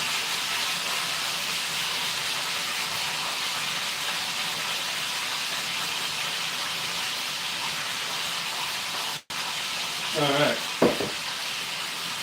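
Meat sizzles as it warms in a pan that is too small, a steady, close hiss of frying that runs throughout, briefly cut off, with someone speaking a word near the end.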